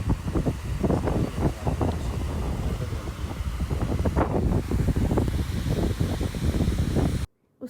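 Steady rushing water from a waterfall spilling down rocky mountainside near Skardu, a broad continuous roar with wind buffeting the microphone, loud and close throughout before cutting off abruptly at the end.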